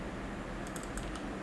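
Computer keyboard keys pressed in a short burst of copy-and-paste taps, several crisp clicks close up against a steady hiss.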